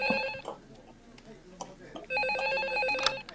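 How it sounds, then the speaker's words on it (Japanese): A telephone bell rings in rapid, trilling bursts, heard near and clear toward the end after brief earlier snatches, with some background noise and voices. "募集を始めた途端に深夜まで電話が鳴り続け"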